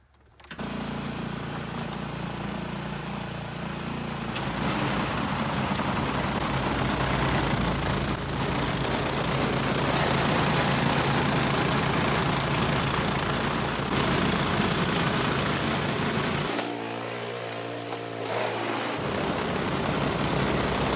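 A snowblower engine drones continuously and loudly at close range during a New Jersey winter storm, holding a steady roar for the whole stretch with only a brief change in tone near the end.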